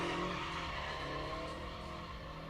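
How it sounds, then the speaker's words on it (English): Scion FRS spinning drift donuts, its engine roaring steadily with tire squeal and skidding throughout, loud and continuous. "Nice controlled donuts out of the Scion FRS, not a BRZ."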